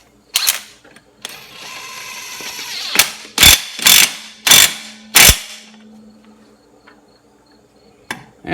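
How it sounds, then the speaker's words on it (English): Bolt being tightened on a Polaris RZR 570 primary clutch: a series of sharp, loud ratcheting clicks and bursts, close by, with a rapid run of strokes in the middle and quiet gaps between. "Stick her on there and put the bolt in her. Tighten her down."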